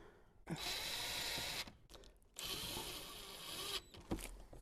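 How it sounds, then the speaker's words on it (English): Two long bursts of a cordless drill with a T15 bit driving screws at high speed in a 2014-2018 Chevy Silverado cabin, close up, separated by brief pauses with small clicks and handling noise. "just get your drill on, T15 bit"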